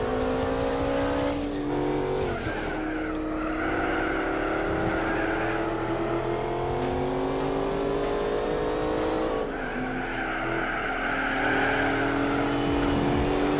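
Race car engines from Gran Turismo 4 at Laguna Seca drone loudly and continuously, pitch rising and falling through gear shifts as cars accelerate and brake around the circuit, with a player's voice heard over the roar.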